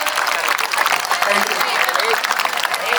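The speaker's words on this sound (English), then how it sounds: "Great round of applause." Loud, close audience clapping fills a school tournament celebration, a dense burst of many hands sustained throughout with crowd noise mixed in.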